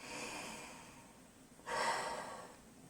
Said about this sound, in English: I cup that over my nose and mouth and take at least 3 deep breaths in